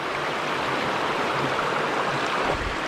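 A mountain river where wild trout are fished flows in a continuous, loud, broadband rush of water with no pauses, filling the whole scene evenly.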